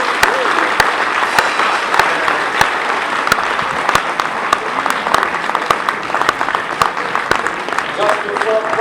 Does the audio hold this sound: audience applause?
yes